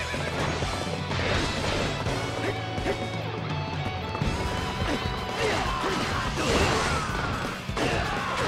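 Horse whinnying on a Dynasty Warriors 8: Xtreme Legends battlefield, a few neighs over dense combat clatter, hoofbeats and crashing hits that continue throughout.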